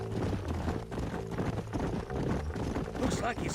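Horse hooves clip-clop steadily in the video game Red Dead Redemption, a fairly quiet rhythmic trotting under game music and spoken dialogue.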